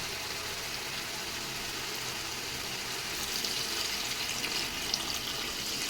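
Steady rushing water, like a stream poured from a tap into a pot, about 800 ml for chicken biryani, continuous and close, with a slight swell toward the end.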